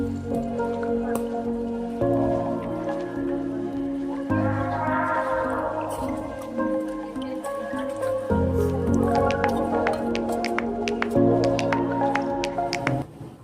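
Crab curry being stirred in a pan after crushed cardamom goes in, giving a steady wet squishing and bubbling texture with small clicks of the spoon, continuous and close throughout without talk.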